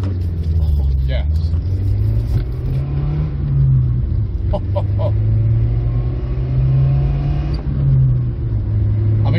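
A 1997 Nissan Primera 2.0 GT with a 2.0-litre engine pulls out of a junction, its engine note rising and falling in a steady droning growl under the interior cabin sound, with brief clicks and knocks along the way.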